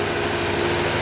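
A car engine idling with the choke on, revs slightly raised, running with a fine, steady sewing-machine-like hum and low rumble, close and continuous with no talk.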